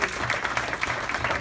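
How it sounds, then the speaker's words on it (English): A live crowd applauds two door volunteers at an evening event, a short and steady burst of clapping from many hands at moderate distance. "Let's give them a round of applause for helping us out tonight."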